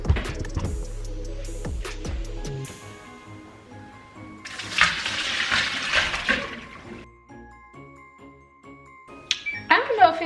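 Tap water runs and splashes while Irish sea moss is rinsed under the faucet, with bursts of flow, clinks and handling sounds, plus someone talking.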